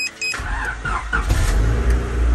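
A Honda Civic EK with a reduction starter cranks briefly after a short electronic whir and catches, settling into a steady low idle that continues to the end, close by and with no talking.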